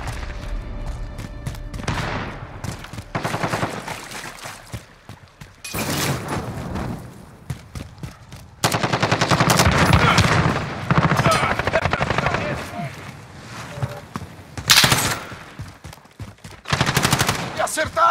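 Gunfire in a Call of Duty Modern Warfare team deathmatch: loud bursts of automatic rifle fire in repeated clusters, separated by brief lulls, with sharp shots and booms close by.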